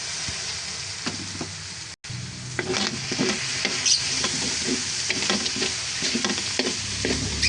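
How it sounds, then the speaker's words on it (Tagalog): Meat stir-fried with sweet potato, carrots and chayote in a hot pan, with steady sizzling and repeated stirring and scraping strokes, close and continuous apart from a brief break near the start. "Igisa-gisa lang po muna natin yan kaunti."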